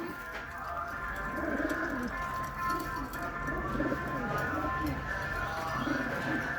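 Pigeons at a weekend bird sale coo in repeated low, rolling phrases, several overlapping birds close by over a constant hum of background noise.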